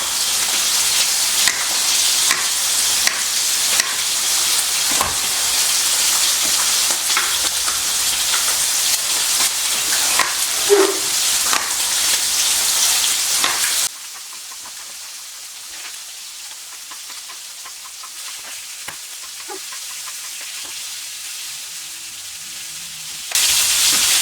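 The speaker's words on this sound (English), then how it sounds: "We want to let them sear on the bottom and get a really nice brown crust on there" Chicken searing in a hot pan, a steady loud sizzle and crackle with scattered pops that drops to a quieter hiss partway through before swelling again near the end.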